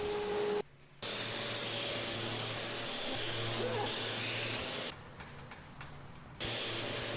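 A power sander drones steadily, close and loud, as fiberglass ski limbs for a bow are sanded down, with two short dips where the motor sound drops back before resuming its even roar.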